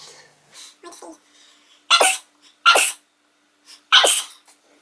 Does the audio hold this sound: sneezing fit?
yes